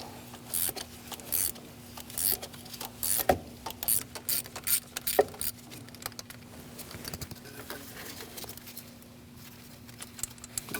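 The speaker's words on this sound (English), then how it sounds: "now we're going to use a 12mm socket and remove that bolt." A ratchet with a 12mm socket loosens a bolt while a speed sensor is replaced on a 2002-2006 Toyota Camry, giving rapid close-up clicking bursts in an irregular rhythm.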